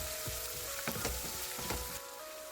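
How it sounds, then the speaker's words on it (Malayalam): Sliced onion sautéing in oil for an ivy gourd stir-fry, a close, continuous sizzle broken by several sharp scrapes of a spatula, then quieting at the end. "അതിലേക്ക് നമുക്ക് അരിഞ്ഞ് വെച്ചിരിക്കുന്ന സവോള ചേർത്ത് കൊടുക്കാം"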